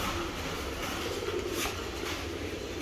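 Wild pigeons coo faintly amid a dense outdoor wash of background noise, with no clear individual calls standing out.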